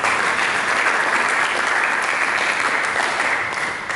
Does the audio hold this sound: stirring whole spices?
no